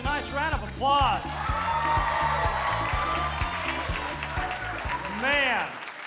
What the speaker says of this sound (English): Give these guys a nice round of applause.